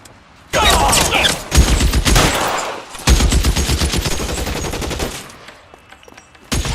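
Video game gunfire in L.A. Noire: loud rapid bursts of shots in two long volleys, dense and close, separated by a short pause, with a final burst at the end.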